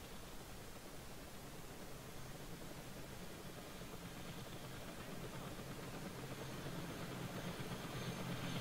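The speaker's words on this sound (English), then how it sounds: "Helicopter gets here." Helicopter arriving in the video game Arma 3, a faint, steady wash of rotor and engine noise that swells slightly toward the end with no talk over it.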